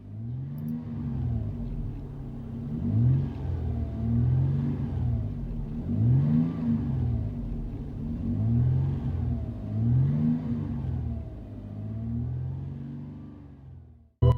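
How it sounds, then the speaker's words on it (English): A 2004 Toyota 4Runner V6 fitted with a Flowmaster Super 50 cat-back exhaust, heard from inside, revs repeatedly in rhythmic rising and falling sweeps, giving a mild, deep exhaust drone with no talking. "Interior tone level is mild with this Flowmaster Super 50 catback exhaust."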